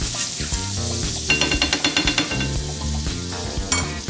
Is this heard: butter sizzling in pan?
yes